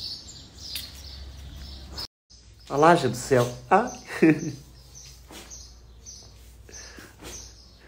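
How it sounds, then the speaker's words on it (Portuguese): Birds sing and chirp outdoors on a cloudy day, a burst of clear warbling notes for a couple of seconds amid quieter chirps, with someone speaking briefly over it. "Os passarinhos tudo cantando."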